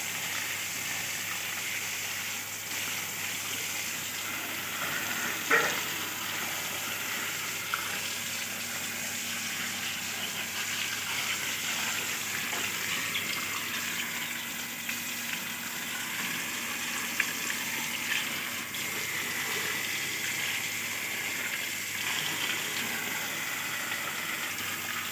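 Running water washes dirty, mud-caked bicycle tires outdoors, a steady hiss and splash that holds evenly throughout with a couple of brief knocks, with no voices over it.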